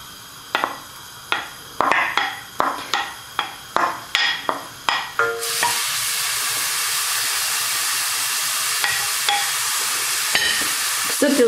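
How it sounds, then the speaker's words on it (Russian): Grated onion and carrot hit a hot frying pan: a series of sharp clanks and stirring scrapes, then a loud continuous sizzle and hiss as the vegetables fry, with occasional utensil taps. "Сначала обжариваем лук, потом обжариваем, туда добавляем морковь."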